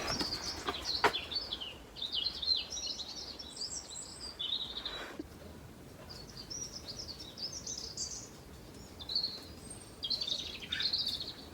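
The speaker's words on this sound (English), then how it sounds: "Oh, listen to the birds." Several birds chirp and trill in bursts throughout, fairly faint and distant over a quiet outdoor background.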